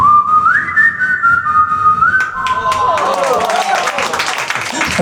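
A person whistles a wavering, off-pitch tune alone, the wobbly melody sliding between notes as a few claps and murmurs from an audience come in toward the end.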